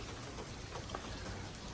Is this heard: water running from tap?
no